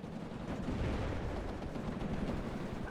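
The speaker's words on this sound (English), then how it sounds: "Now I got my flame troops firing" Flame troops firing in the war strategy game WARNO, a dense continuous roar of gunfire and rumbling blasts, loud and steady for the full few seconds, with no voices.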